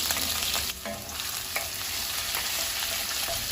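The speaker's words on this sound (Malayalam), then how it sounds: "പച്ചമുളക് ഇഞ്ചിയും വെളുത്തുള്ളിയൊക്കെ വഴണ്ടി വന്നിട്ടുണ്ട്" Chopped ginger, garlic and green chili fry in a pan for chicken 65 biriyani, a steady close sizzle broken by a few stirring scrapes, with no voices.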